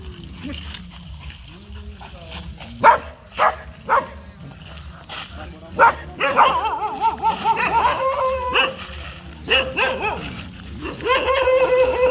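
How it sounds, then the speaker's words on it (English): Several dogs bark, yip and whimper in a scuffle, with sharp barks at first and then a noisy, continuous fight. People talk over it close by. "his dogs wanted to fight, so that we had to pause this video."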